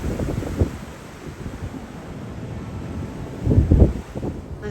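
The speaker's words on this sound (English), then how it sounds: "he can't fly in this wind" Strong wind buffets the microphone beside a canal, a steady low rumble with louder gusts near the start and toward the end, no talking.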